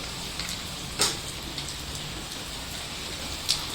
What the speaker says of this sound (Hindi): इतनी कोई तेज़ बारिश हो रही है।